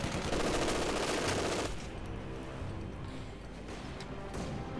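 Rapid bursts of MG42 machine gun fire in the Company of Heroes 2 strategy game, dense and loud for the first second and a half, then settling into scattered distant battle noise with occasional sharper shots.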